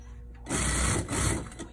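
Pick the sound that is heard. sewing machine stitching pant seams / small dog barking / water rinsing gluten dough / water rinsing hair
sewing machine stitching pant seams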